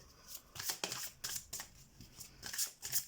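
A tarot card drawn from a deck and laid down, giving soft, close papery swishes and flicks in an irregular rhythm, faint and quiet with no talk.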